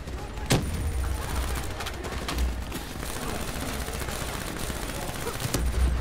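Rattling gunfire in Call of Duty: Black Ops III, a steady rapid spray running throughout with a few sharper louder shots punching through the mix.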